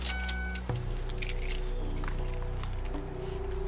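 Car keys jangle as they are handed over during a roadside police stop on a wet road, a bright metallic clinking burst near the start followed by lighter rattles over a steady idling car engine hum.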